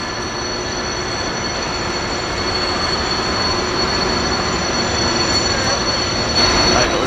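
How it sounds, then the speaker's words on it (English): A freight train rolls past on Horseshoe Curve, a steady, loud rumble of wheels and cars with faint squealing, continuous and heard at some distance without talk. "I hear another train going through"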